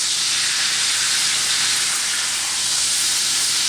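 Steak edges sear on a hot surface, producing a continuous loud, even hiss of sizzling fat with no breaks and no talking.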